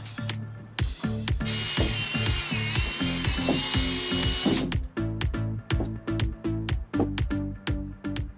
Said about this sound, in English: Pre-drill all your branches.